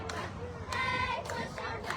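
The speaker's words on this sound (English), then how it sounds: "And you hear the cheerleaders here" Varsity cheerleaders at a high school homecoming football game chant in unison from a distance, a short rhythmic shouted cheer rising over the general crowd murmur.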